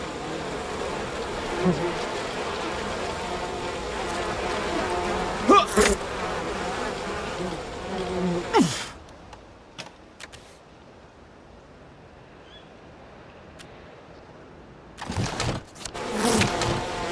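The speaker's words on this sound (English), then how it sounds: "Poor bees." Buzzing bees in the video game We Happy Few, a steady droning hum filling the first half, then fading to near quiet with a few sharp bursts and a brief voice.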